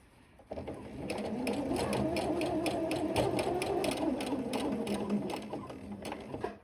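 A sewing machine runs steadily, stitching the hem of a skirt with a fast, even mechanical clatter that carries on close and loud for several seconds before winding down.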